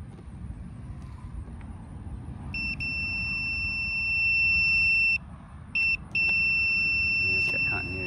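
A multimeter's high, steady continuity-test beep sounds continuously, cutting out briefly a couple of times before resuming, over faint background noise.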